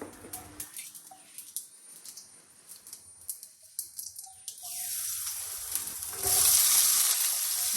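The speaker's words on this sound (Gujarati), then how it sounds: "પહેલાં થોડા એવા અજમા લઈ વઘારી અને પછી આ બધું વેજીટેબલ્સ એક સાથે નાખી દેવાનું" Ajwain seeds tempering in hot oil, then vegetables tipped into a pan for pasta, giving a soft crackling patter that swells into a steady louder sizzle, rising further toward the end.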